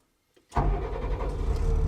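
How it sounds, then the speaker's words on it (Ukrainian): An armored car fitted with a Jawa motorcycle engine starts after brief quiet, then settles into a loud, steady, close engine rumble as it runs. "Пробуємо робити запуск і рухатись. Ух, моща, зараз воно як буркне."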